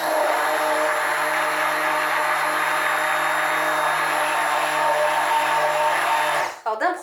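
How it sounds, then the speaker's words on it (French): Stick blender whirring continuously while mixing cold-process soap, loud and close, then stopping abruptly near the end, followed by a short clatter. "Et à partir de là, on va mixer."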